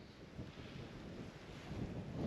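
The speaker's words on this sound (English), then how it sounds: "We've got about 10 to 15 mile an hour gusts" Gusting wind buffeting the microphone at a wild camp in the North Pennines, a steady low rumbling roar that swells slightly toward the end, with no voices.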